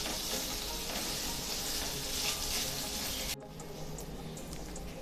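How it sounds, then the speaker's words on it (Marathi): Rice sautés in ghee over a medium flame for coconut rice, making a dense continuous sizzle with light stirring scrapes. It drops abruptly to a quieter crackle about two-thirds through. "तांदूळ आपल्याला आता तुपावरती 2 ते 3 मिनिटांसाठी परतवून घ्यायचा आहे।"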